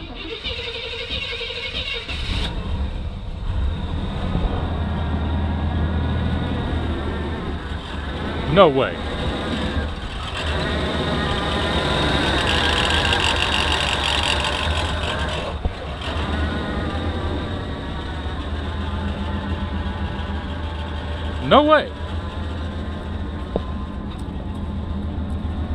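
An old $300 truck engine cranks, catches and settles into a steady, fairly loud idle with a slight misfire, running continuously while someone talks over it.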